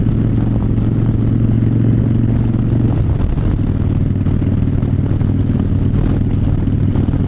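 A Harley-Davidson motorcycle cruises a twisty canyon road, its steady, loud engine drone running throughout under constant wind rush, with a brief shift in pitch around the third second.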